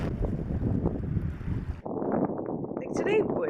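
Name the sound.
strong wind blowing at the beach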